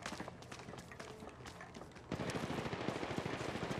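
Rapid automatic gunfire in the mobile battle royale game Apex Legends Mobile, dense bursts of shots that grow louder and more continuous halfway through, with footsteps mixed in.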